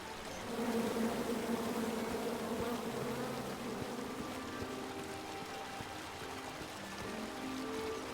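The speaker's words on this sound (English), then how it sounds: "And then you chop down the tree full of angry bees?" Angry bees buzzing steadily from a chopped-down tree in the video game King's Quest, a dense continuous drone that stays loud and close for several seconds with no talk over it.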